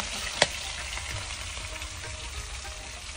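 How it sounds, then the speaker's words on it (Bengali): Fish frying in a pan on a village clay stove gives a steady soft sizzle with a sharp clatter near the start, close and fairly quiet, no voices. "মাছ ভাজি করে নিচ্ছেন রান্নার আগে।"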